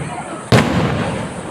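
A single sharp rocket firework bang bursts out, followed by a lingering rumble and crackle fading slowly, outdoors at moderate distance.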